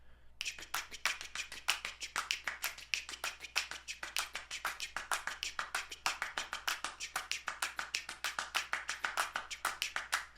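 Dense layered hand clapping from an a cappella arrangement, many claps phasing in and out of each other in a fast, steady, busy rhythm that runs continuously and close, with no voices.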